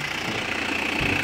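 An Isuzu Crosswind diesel engine idles with the idle raised, a steady close rumble with a rhythmic knocking pulse throughout the short stretch.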